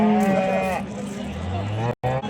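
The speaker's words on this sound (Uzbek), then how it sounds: "Akalar navbatda sigirimiz bor ekan" A large, calm cow at a busy livestock market in Andijan, a low moo near the end under loud crowd chatter and nearby talk.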